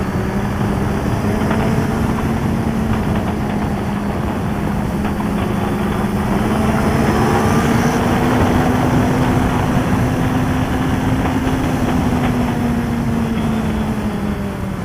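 Motorcycle engine droning steadily on the Le Vigeant race track, a loud continuous tone that rises slowly as the rider opens the throttle through a lean, heard alone and close, as from an onboard ride.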